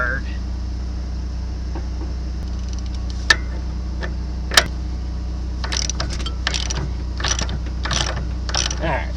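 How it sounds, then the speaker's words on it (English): A half-inch drive ratchet clicks as it turns a sharpening stone bolt on a John Deere 8700 forage chopper, with sparse ticks at first and then a steadier run of ratcheting clicks near the end, over low machinery hum. "I get a 1/2 inch drive that's turning hard."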